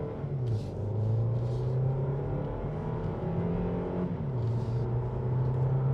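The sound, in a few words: Kia Xceed plug-in hybrid accelerating hard in sport mode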